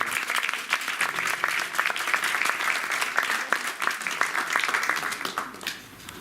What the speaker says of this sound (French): Donc, applaudissez pour vous-même déjà.